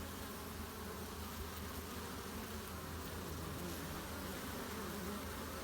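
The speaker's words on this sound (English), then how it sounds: "Bees are doing their thing." Honeybees buzz around their hive colonies on an early spring day in February, a faint, steady hum that carries evenly without a break and with no voices.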